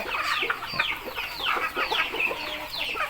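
Chickens on a farm cluck continuously at evening feeding time, many birds overlapping in a dense, lively chorus close by.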